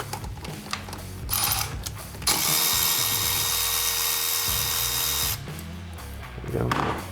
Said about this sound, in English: I've chosen to use a 1/4 inch ratchet with a 6-inch extension